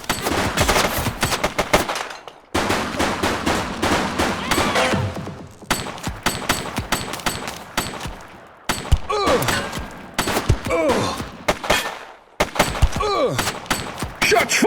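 A suspect fires on police in the video game The Precinct, bursts of automatic gunfire and single sharp shots repeating in loud volleys separated by brief pauses, with faint voices mixed in.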